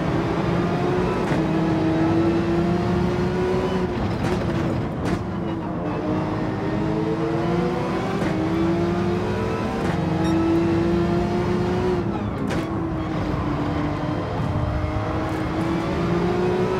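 A Porsche race car engine in Gran Turismo 7 drones steadily and loud, its pitch climbing through repeated gear shifts and accelerations, the engine continuous throughout.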